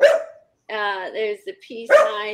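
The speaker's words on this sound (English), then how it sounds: "I'm sorry about the dog." A dog barks loudly in short bursts, one sharp bark opening and another closing the stretch, while someone talks in between indoors.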